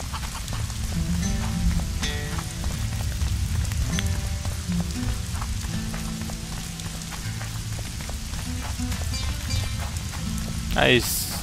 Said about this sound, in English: This is just beautiful when the weather is raining.